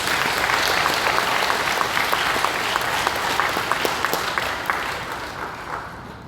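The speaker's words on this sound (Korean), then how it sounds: "우리 감사의 박수 하겠습니다." Congregation applauding at a joint church service for the 8.15 Liberation Day in Sejong, a dense, even roar of many hands clapping that holds steady for several seconds, then gradually tapers off.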